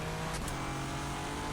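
Nissan GT-R LM race car in rFactor 2, its engine droning loud and steady at close range through a short, continuous stretch of driving.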